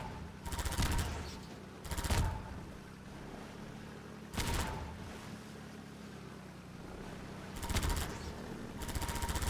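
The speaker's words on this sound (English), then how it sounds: "Why are you shooting every barrel?" Gunfire at barrels in the video game Half-Life 2: four sharp, widely spaced shots at moderate volume, each ringing out briefly over a constant background of wind and water noise.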